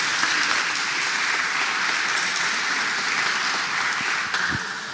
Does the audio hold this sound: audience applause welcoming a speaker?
yes